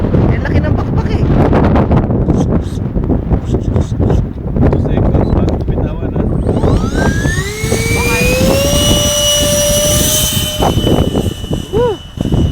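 A jet aircraft's engine roars loudly with rumbling wind noise, then a rising whine climbs in pitch as it powers up and accelerates on takeoff, with voices mixed in.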